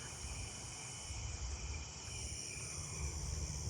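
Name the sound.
Carolina ground crickets chirping at night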